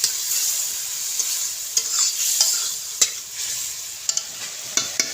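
Turmeric powder and spices being sautéed in a pan for a rural-style jackfruit kofta curry, a steady bright sizzle with intermittent scraping stirs and a few sharp spatula knocks, close and alone.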